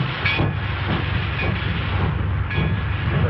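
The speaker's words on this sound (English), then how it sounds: "See that train down there?" A train rolls through a railroad yard in a 1930s setting, giving a steady low rumble with hissing and a few faint squeals, continuous and moderately close throughout.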